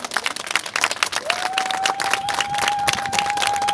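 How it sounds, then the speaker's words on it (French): A crowd at a Paris tribute gathering for Modibo Keïta applauding, uneven claps building into a steady ovation with a rising cheer or whistle running through. "je vous demande de l'applaudir comme il se doit"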